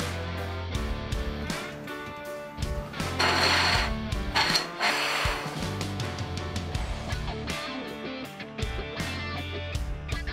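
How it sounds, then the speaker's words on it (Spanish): A Snapmaker Artisan 3D printer at work, its stepper motors giving off a run of tonal whirs and buzzing movements that change pitch in quick, irregular steps, with a brief louder scraping burst in the middle. "Así que nos vamos a la impresora y a imprimir."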